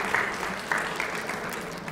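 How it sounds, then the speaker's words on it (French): A retreat congregation claps together in praise, a dense round of applause filling the room steadily for the whole stretch, with a few sharper bursts standing out. "Let us give a great clap to the Lord"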